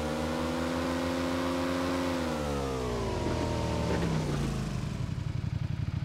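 A motorcycle engine in the PUBG Lite video game drones steadily and close, its pitch dropping and then settling into a rough, pulsing idle, with no voices.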